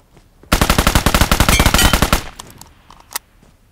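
Rapid automatic gunfire in the video game Metro, a loud sustained burst of evenly spaced shots lasting almost two seconds before it cuts off, followed by faint scattered clicks and a single sharp tap.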